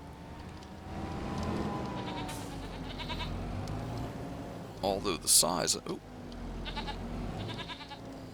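Goats bleat near a goat shed on a farm in Farming Simulator 25, a few drawn-out, wavering calls at moderate distance, heard under someone talking, along with short bursts of in-game clatter.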